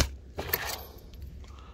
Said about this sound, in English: Some sort of keys.